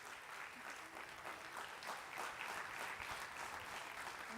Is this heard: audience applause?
yes